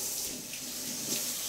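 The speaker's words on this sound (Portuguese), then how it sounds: "E agora vamos colocar água." Water pours steadily from a tap into a bowl of salted sliced cucumber, a brief continuous splashing rush close by.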